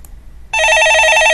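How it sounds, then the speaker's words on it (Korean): A telephone ringing into a Korean stock-market call-in broadcast, a loud, bright electronic ring that bursts in after near silence and trills steadily without break. "예, 전화 받아보겠습니다"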